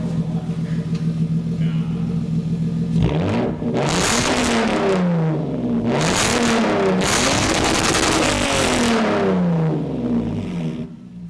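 A Lexus engine with its exhaust resonator deleted revs repeatedly, rising and falling in pitch with a loud, raspy exhaust roar over a steady idle rumble, close to the car.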